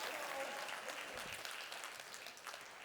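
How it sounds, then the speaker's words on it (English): An audience at a business motivational talk breaks into a round of applause, a dense, steady wash of many hands clapping that fades slightly toward the end, heard at a moderate distance with no speech over it. "Can we give 14 years a round of applause?"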